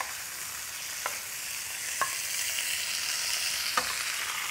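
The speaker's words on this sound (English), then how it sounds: "So you see, we're just searing our meat." Meat sears in a hot wok with a steady, close, hissing sizzle of spattering oil, broken by a few sharp pops and clicks, with no voices.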